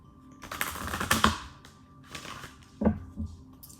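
Tarot cards riffle in several quick papery bursts, with short pauses between shuffles and a soft tap or two, close and fairly loud.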